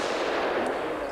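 A shotgun fires during clay shooting practice outdoors. The loud blast and its broad rolling echo fill the whole second with dense noise.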